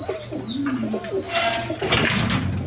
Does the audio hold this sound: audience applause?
no